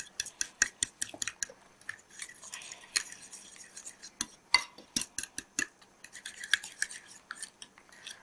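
A spoon stirs ingredients with a tablespoon of oil in a bowl, giving close, irregular clinks and taps against the bowl, some crisp and some softer, in quick uneven runs.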